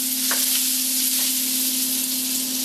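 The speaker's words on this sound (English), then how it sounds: "this sausage looks nicely browned." Sausage browns in a frying pan with a steady, close sizzle, a faint spatula scrape or two and a constant underlying hum.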